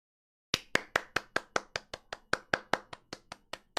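A short burst of about fifteen evenly spaced claps rings out crisply as a game's applause sound effect in Apollo Justice: Ace Attorney Trilogy, with no voices.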